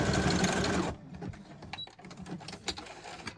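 A sewing machine stitches through junk journal paper in a fast, dense mechanical whir for about a second, then stops, leaving faint clicks and handling sounds.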